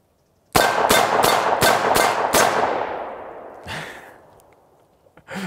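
Dan Wesson 715 revolver fires six rapid shots, alternating .38 and .357 rounds, each one a loud, sharp crack, followed by a fading echo and a few faint clicks and handling noises.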